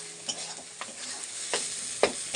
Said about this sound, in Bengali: এখন এটা বেশ কিছুক্ষণ নাড়াচাড়া করতে হবে যতক্ষণ না একটা দলা মতো পাকিয়ে আসছে।